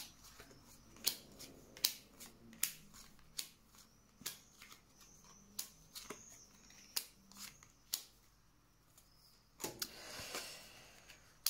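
Tarot cards being shuffled and drawn during a reading, a run of soft, sharp card snaps and flicks in an irregular rhythm, close and quiet, ending in a longer rustling shuffle.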